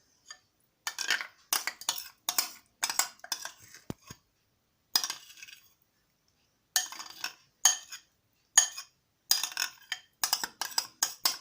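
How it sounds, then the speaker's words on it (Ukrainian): Utensils mixing an autumn herring salad in a bowl: close, intermittent bursts of scraping and clinking, with a few quiet pauses between stirs. "Це все потрібно добре перемішати всі інгредієнти."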